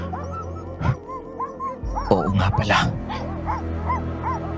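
Guard dogs bark, yip and whimper at night, with several close, overlapping outbursts while a voice speaks over them.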